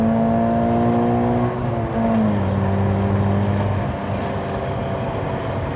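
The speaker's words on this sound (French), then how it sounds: "C'est la différence avec un moteur turbo, c'est que là tu as vraiment le moteur, tu l'entends monter" A Toyota GT86 with a 200 hp naturally aspirated engine revs, its droning note dipping and then climbing again, loud and close and continuous, with no talking.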